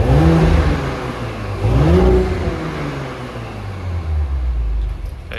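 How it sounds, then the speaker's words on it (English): Audi S4 with a 3.0 TFSI quattro engine idles in comfort mode with a steady low hum, lifted by two short revs that rise and fall, then settles back to a smooth idle. "So we'll let the vehicle warm up now, and we'll just hear what it sounds like in comfort mode."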